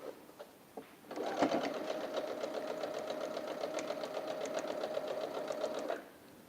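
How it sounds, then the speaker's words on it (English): A sewing machine stitches steadily for about five seconds in a quiet room, a fast even mechanical whir with a rapid needle rhythm, starting and stopping cleanly with nobody talking. "Let's keep sewing though. Just keep sewing, just keep sewing."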